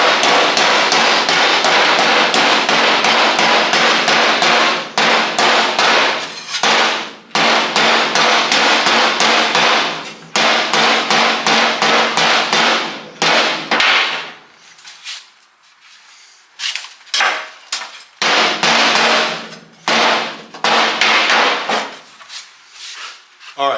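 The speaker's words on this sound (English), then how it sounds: "First thing you got to do is you got to knock the flux off the rod." A hammer knocks the flux coating off a welding rod during a tractor bucket repair, with rapid, loud metallic strikes in dense bursts broken by short pauses.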